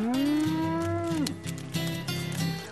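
Cattle lowing loudly and close, one long drawn moo that bends downward, followed by lower, rougher moos from more cows, with no talking.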